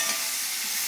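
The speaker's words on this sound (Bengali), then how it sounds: "এখন একটু পেঁয়াজটা ভাজতে দাও" Onions frying in a pan give a steady, close, loud sizzle and hiss that stays dense and even from start to finish, with no voices.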